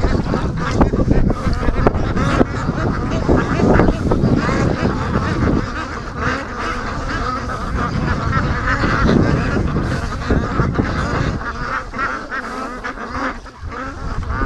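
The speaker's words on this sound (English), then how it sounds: "Doug swimming with the ducks." Ducks quack and honk on a lake, many birds calling at once in a dense, steady chorus, with splashing water and faint background voices.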